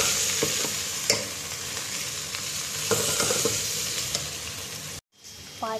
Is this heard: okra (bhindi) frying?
yes